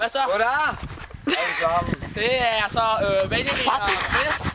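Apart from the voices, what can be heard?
No distinct noise like a dog, phone or traffic.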